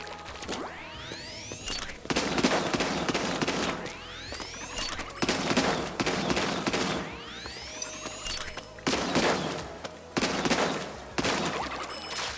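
Full-charge shots from a Splatoon 3 charger-style weapon, with rising charge-up whines followed by loud bursts, repeating four times in a steady cycle over game noise.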